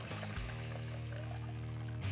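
Water poured through a homemade filter of sand and small plastic beads, heard as a short, close pour with a steady trickling flow that stops, then briefly resumes.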